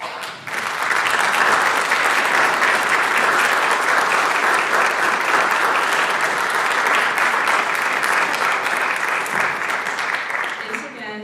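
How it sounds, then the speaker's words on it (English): An audience at a high school National Honor Society induction ceremony applauds the new members, a loud, dense, sustained wash of clapping from many hands lasting around ten seconds. "please join me once again in applauding all of our new National Honor Society members"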